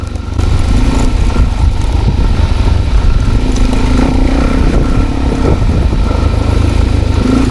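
A Suzuki DRZ400 dual-sport motorcycle engine drones steadily and loudly while being ridden on a dirt road, with constant close-up engine roar and wind buffeting throughout.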